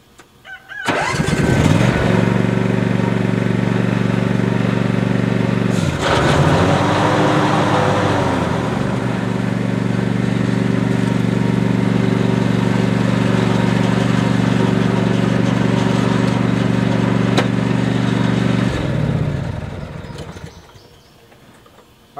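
A John Deere Z515E zero-turn lawn mower engine cranks and catches, then runs at a steady, loud drone close by for about twenty seconds, with a brief change in pitch early on before shutting down near the end.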